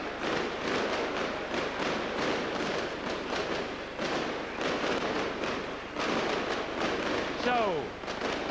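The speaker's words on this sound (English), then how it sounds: "the firecrackers up in the crystal clear blue sky" Rapid crackling bursts of firecrackers going off in irregular clusters, loud and outdoors under a clear sky at a 2001 Wales v England match at the Racecourse Ground, with a crowd murmuring and a brief whistling rise near the end.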